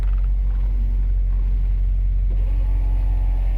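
A 1957 Mercury Turnpike Cruiser V8 idles smoothly at about 600 RPM, giving a steady, close low rumble with an even pulse and no revving.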